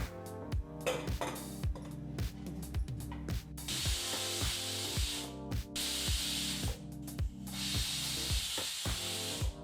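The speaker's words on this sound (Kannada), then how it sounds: "ಈಗಿಲ್ಲಿ ಕುಕ್ಕರ್ ಮೂರು ವಿಸಲ್ ಬಂದಾಯಿತು" Loud, steady steam hissing from a pressure cooker cooking vegetable khichdi, with a rapid rhythmic rattling and a shrill whistle that surges in the middle and near the end.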